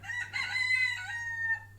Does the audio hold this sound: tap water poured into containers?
no